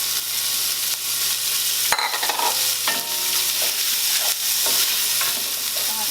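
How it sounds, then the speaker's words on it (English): Onions and mushrooms sizzle in a pan over seared meat bits, a steady frying hiss punctuated by spatula scrapes and taps as they are stirred. "I'm going to put in some onion and those mushrooms."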